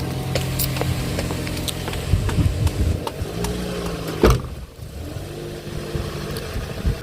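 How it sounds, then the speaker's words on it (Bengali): A car being driven in heavy rain, its engine humming steadily inside the cabin with a rising rev and a sharp knock or bump partway through, and no voices. "এই যে আপনার ভাইয়া গাড়ি চালাচ্ছে"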